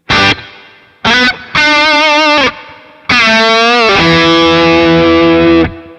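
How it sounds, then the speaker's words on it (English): A loud distorted electric guitar played through a Boss Katana amplifier plays a few sustained chords with a Hall 1 reverb effect, each ringing out with a long, spacious reverb tail. "We can choose Hall 1, push on, and then we have reverb."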